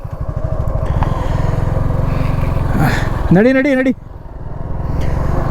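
A Suzuki V-Strom 250 SX motorcycle rides off with a close, steady engine drone; the pitch climbs briefly as it revs, then the note drops before settling again, and someone speaks briefly over it.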